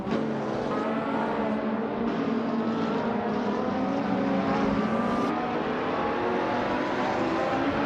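Several race cars in a slow class of 2010-and-later models, including a 2012 Ferrari California, roar continuously together in a racing video game, a dense steady engine drone with shifting pitch and no voices.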